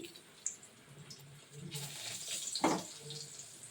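Water from soaking rice is poured back into a cooking pot while making vegetarian khichuri, a short splashing pour heard up close, rising midway and tapering off at the end.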